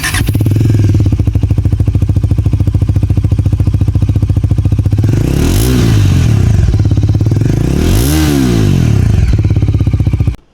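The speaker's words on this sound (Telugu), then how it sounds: "రియాలిటీలో ఈ 350cc బైక్ ఎగ్జాస్ట్ సౌండ్ విన్న తర్వాత" A Bajaj Dominar 350 with a double-barrel exhaust idles loudly and steadily up close, with two sharp revs rising and falling near the middle before the engine cuts off at the end.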